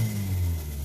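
Engine of a 2015 Kia Optima revving, a close, steady low hum that swells slightly and eases off, with no talk.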